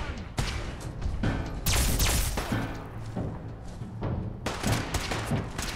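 Gunfire in Fallout 4, a dense burst of loud, close shots and impacts in irregular volleys across several seconds, with a voice speaking over part of it.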